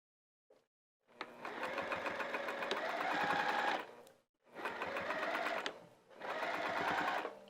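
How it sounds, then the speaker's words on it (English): A sewing machine stitches a fabric potholder in three runs of fast, even mechanical whirring, close and clear, separated by short pauses of near silence after a faint tap at the start. "So I'm going to sew this down. And I'm going to go over it a couple of times."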